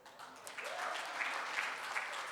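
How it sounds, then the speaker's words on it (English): An audience at a women's empowerment celebration gives a round of applause, a dense, fairly distant wash of many hands clapping at a steady level throughout. "another round of applause"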